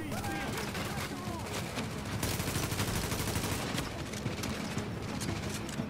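Enemy gunfire in the video game The Division: dense, continuous bursts of rapid shots and rattling fusillades fill the whole stretch at loud, constant intensity.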